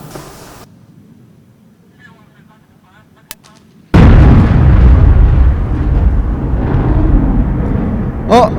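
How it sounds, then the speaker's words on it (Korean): A ruptured gas pipe explodes during an earthquake disaster drill in Jeungpyeong, Chungbuk, South Korea, as a sudden loud blast after a quiet stretch with faint voices, followed by a sustained rumbling roar and a few sharp pops. "방금 지진으로 파열되어 있던 가스관에서 가스가 노출되어 방금 폭발이 발생했습니다"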